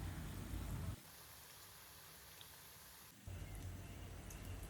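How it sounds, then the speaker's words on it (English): Dense, steady sizzling of paneer popcorns deep-frying in hot oil over a medium flame, a continuous crackling hiss that drops briefly quieter in the middle before swelling back up. "when the oil is hot enough we will add the paneer popcorns one by one into the hot oil, and on medium flame we will fry them"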